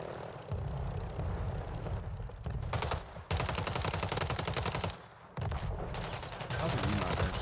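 Heavy, sustained machine-gun fire in a video game, loud and continuous with short gaps between bursts, faint voices mixed in beneath the shooting.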